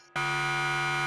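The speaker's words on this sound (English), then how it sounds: "And you hear an alarm sound." Alarm sound effect in a tabletop role-playing game session, a harsh steady electronic buzzer tone that switches on abruptly after a brief quiet moment and holds loud and unbroken.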